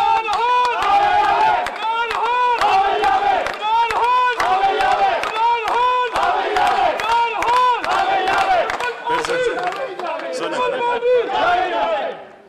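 Large crowd at a political rally chanting slogans loudly in rhythmic, repeated bursts, with raised voices and some cheering throughout, sustained and close.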